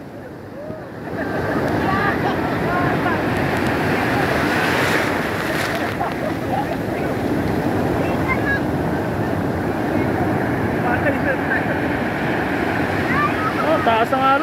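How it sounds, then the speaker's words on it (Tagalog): Loud, continuous rush of high surf at a white sand beach in Bolinao, Pangasinan, with wind buffeting the microphone, waves crashing close by, voices faintly mixed into the roar. "Ang taas ng alon."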